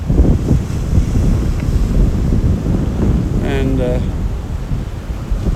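Strong wind buffets the microphone outdoors while a drone is being brought in to land, a loud steady rumbling roar throughout, with a faint brief voice near the end.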